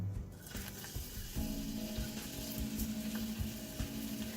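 Chopped onion sauteing in two tablespoons of oil in a pan, a soft steady sizzle with faint hiss and occasional light clinks, fairly quiet and continuous.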